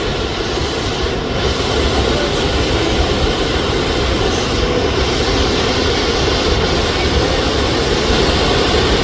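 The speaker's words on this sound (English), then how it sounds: "You can hear the sound of the water crashing." Water crashing down Thiba Falls in Kirinyaga makes a loud, steady, unbroken roar that fills everything, close and constant with no voices.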